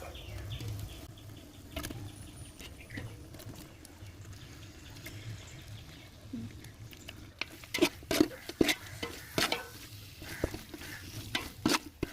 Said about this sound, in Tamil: வாங்க சிக்கனை சேர்த்துக்கலாம்